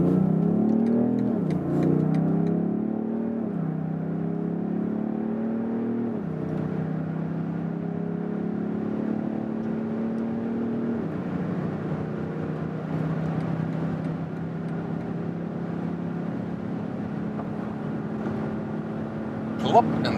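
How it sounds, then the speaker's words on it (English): A BMW X7 M50d in sports mode, its 400-horsepower diesel pulling hard from about 40 km/h, engine drone rising in steady stepped sweeps as gears change, heard from inside the cabin with continuous road and wind noise. "So sports mode, all the full 400 horsepower now, and we accelerate from about 40 kilometers an hour to whatever"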